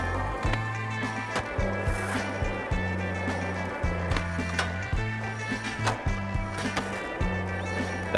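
A skateboard grinding a wide flat bar in the skate video game: rolling wheels and scraping metal contact in a repeated rhythm of clacks and grinds, several trick attempts one after another, with no talking.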